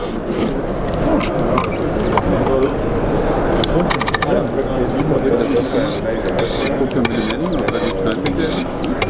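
A knife blade is drawn across a finer grit stone on a Wicked Edge sharpener, giving a steady, continuous rasping scrape that stays loud and close for the whole stretch, with trade-show crowd noise behind it.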